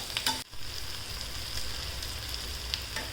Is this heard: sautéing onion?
yes